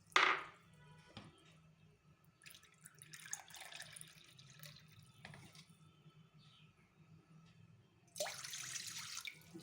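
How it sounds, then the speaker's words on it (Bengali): Water is poured into a wok set up for making sago papad, splashing in short bursts at the start and again near the end, with quieter dripping and clatter between. "জল দিয়ে দিলাম।"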